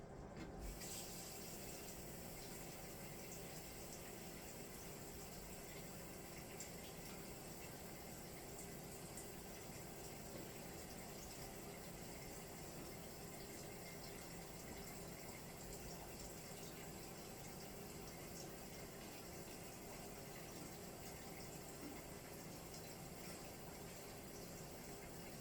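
Water pours steadily into a cooking pot for fish tinola, a continuous, quiet hissing gush that runs unchanged for the whole stretch.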